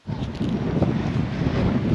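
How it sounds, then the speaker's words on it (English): Strong gusting wind at Mount Augustus roars and buffets the microphone continuously, loud and close, with no voices. "it's really windy, which is not helping"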